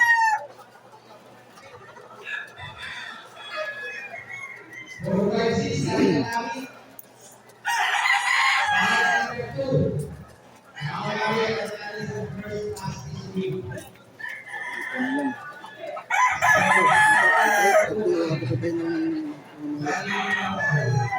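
Chickens crow and cluck in several loud bursts, with quieter gaps between calls, close by and mostly without talk.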